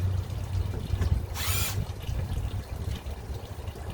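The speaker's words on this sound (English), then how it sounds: "You got to remove these two Phillips head screws here." Phillips head screws coming out of a cheap Chinese chainsaw during a side chain tensioner swap, heard as one short, loud whirring burst from a driver against a low, steady background hum.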